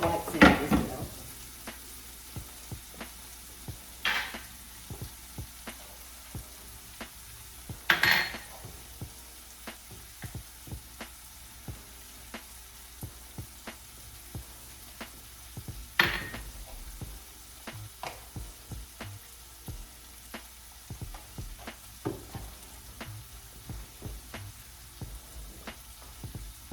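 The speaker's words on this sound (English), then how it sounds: "I will scramble two quail eggs, and then I will add my" Quail eggs and egg whites scramble in a hot pan with a steady soft sizzle, punctuated by occasional sharp clacks and scrapes of a utensil against the pan.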